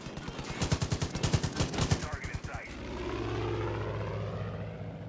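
Rapid bursts of gunfire aimed at an aircraft in the video game Far Cry 5, a loud run of sharp shots lasting about two and a half seconds. A steady propeller-aircraft drone follows the shooting.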